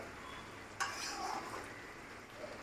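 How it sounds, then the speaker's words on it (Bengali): Chicken curry being stirred in a pot, a spoon scraping the base through a low steady simmer, with one sharp clink near the start and softer scrapes after. "এভাবে ভালো করে নেড়ে নিতে হবে, না হলে নিচে লেগে যাবে।"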